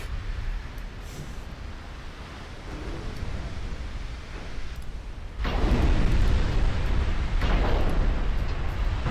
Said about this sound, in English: the poor heavy cruiser is like, oh, all the ships around me are exploding